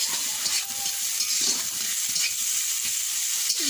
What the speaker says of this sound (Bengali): ডিম ভাজা হয়ে গেছে এখন পেঁয়াজ দিয়ে দিচ্ছে